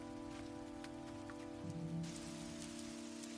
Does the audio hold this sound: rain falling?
yes